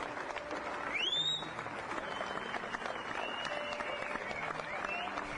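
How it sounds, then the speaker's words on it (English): Sustained applause from a crowd lining the funeral route of snooker player Alex Higgins, a steady dense wash of clapping that carries on unbroken, with a brief whistle near the start. "The clapping went on for at least 20 minutes from the house to the actual church."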